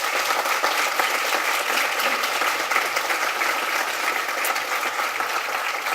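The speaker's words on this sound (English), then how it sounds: "let's give them a round of applause, please." An audience at a Home Runs for Hospice charity breakfast claps in loud, sustained applause that fills the whole stretch evenly, with no break.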